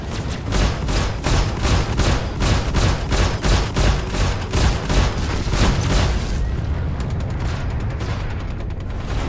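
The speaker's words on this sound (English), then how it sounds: "to fire those flares." Flares fire from a Warthog ship in the video game Star Citizen as a rapid, evenly spaced volley of loud popping bursts. The volley runs for about six seconds, then fades into a rumbling tail.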